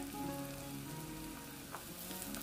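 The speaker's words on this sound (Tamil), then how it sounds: "கொஞ்சம் கருவேப்பிலை சேர்த்து எல்லாத்தையுமே சேர்த்து நல்லா வதக்கி விட்டுக்கலாம்" Onion, garlic, green chili and curry leaves fry in hot oil, making a low, even sizzle that holds steady and faint throughout, with no talking.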